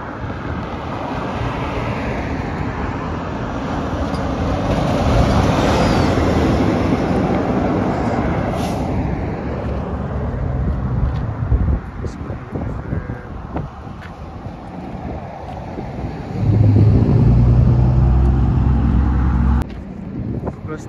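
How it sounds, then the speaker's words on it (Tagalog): Steady traffic rushes past on a highway in Morden, Manitoba, a continuous broadband roar of passing vehicles with some wind buffeting the microphone and a louder close pass near the end. "Diba? Daming sasakyan."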